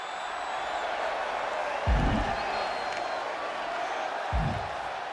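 A wrestling crowd reacting against Naomi as she talks a big game: a steady, loud roar of arena noise, with two heavy low thumps rising out of the din, and no clear voices on top.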